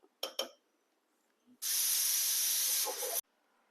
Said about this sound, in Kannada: ಮತ್ತೆ ಒಂದು ವಿಷಲ್ ಕೂಗಿಸ್ಬೇಕು